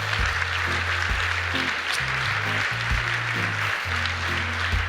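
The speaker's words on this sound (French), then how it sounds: "On peut l'applaudir, s'il vous plaît." Audience applause at an awards ceremony, a broad wash of clapping from many hands held steady throughout, with low background music underneath.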